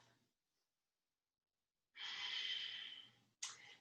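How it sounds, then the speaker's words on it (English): Ujjayi breathing during a vinyasa yoga class: a long, steady, hissing exhale through a narrowed throat, close and fairly quiet, followed after a pause by the start of another breath. "See if you can regain your Ujjayi breath in case you lost it"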